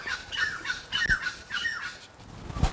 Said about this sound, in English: Did you just hear those birds?